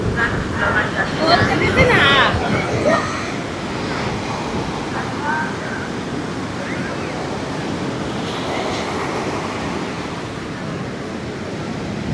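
Sea surf rolls onto Puri beach in the morning, a steady broad wash of waves with wind noise against the microphone, and people talking briefly near the start.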